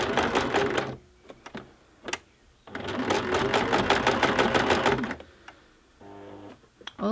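A sewing machine stitching fabric around curves, close and loud, running in two bursts with short pauses and clicks between them as the work is readjusted, then a brief final run.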